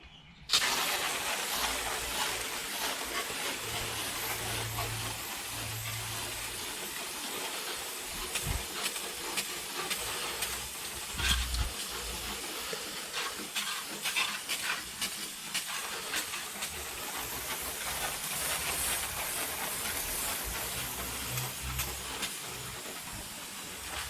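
Heavy degreaser sprayed onto the grimy under tray of a BMW 335i during an oil filter housing gasket job, heard as a steady close hiss of aerosol spray lasting throughout, with low rumbling handling noise underneath and no talking.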